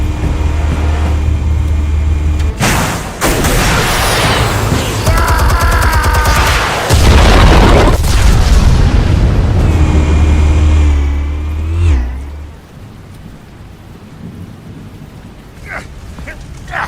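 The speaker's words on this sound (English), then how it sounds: "Explosives armed. Fire when ready." Explosives detonate in the Batman Telltale Series video game on PS5, a loud booming blast with heavy low rumble rising out of dense, continuous game sound effects before dropping to a quiet tail.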